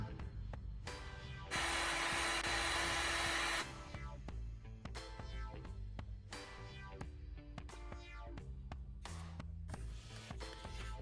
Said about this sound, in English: I got my heat gun and we're going to turn it into a nice curve.